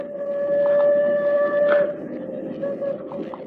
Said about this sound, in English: The train's almost here.